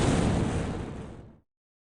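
A loud explosion sound effect as a bag strikes a car in a cartoon, a broad roaring blast that fades steadily and cuts to silence after about a second and a half.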